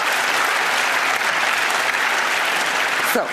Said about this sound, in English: Please, yes, we can applaud that.